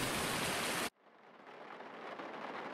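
Rain falls in the Farming Simulator 19 game, heard from inside a vehicle cab: a loud burst of hiss cuts off abruptly and gives way to a softer, steady patter that slowly builds.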